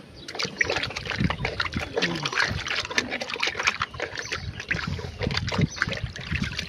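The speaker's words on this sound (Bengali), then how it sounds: "এই যেরকম জলের পাত্রগুলো এরকম ডুবিয়ে এরকম করে ধুয়ে নেবে।" Pigeon water bowls are dipped and washed in a tub of water, making continuous close sloshing, splashing and trickling as they are swirled, with a person talking over it.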